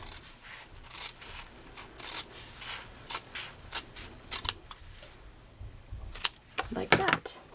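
Scissors snip through fabric for a surgical bouffant scrub hat, a steady series of sharp close cuts that grow quicker and louder toward the end, under faint talk.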